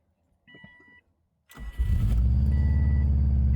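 An unregistered project car's engine cranks after a few soft dashboard chimes, then catches and settles into a loud, steady idle close by.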